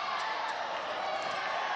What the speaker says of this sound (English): Crowd really into it at this stage.